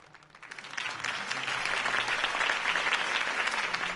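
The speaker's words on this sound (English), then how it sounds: "could have heard that applause" Applause from a crowd swells up within the first second, then holds as a thick, steady roar of many clapping hands.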